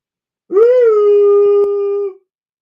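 A dog lets out a single sustained howl, loud and close, rising briefly then holding a steady pitch for about a second and a half before trailing off, with no barking.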